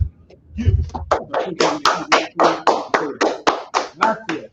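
About a dozen sharp hand claps in a slow, steady rhythm, close and loud, following a brief low rumble at the start.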